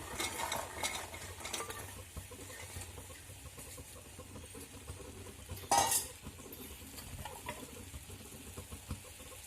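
Green peas added to mixed vegetables cooking in a pan for Rishipanchami bhaji, a quiet soft stirring and scraping with a faint sizzle and one brief louder clink of utensil against pan.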